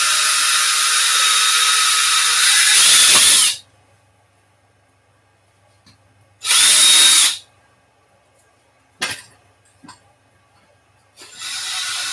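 A power drill bores a second hole in the back of a plastic toy pistol, heard as loud, close whirring bursts of a few seconds each, with silent gaps and a brief tap between them.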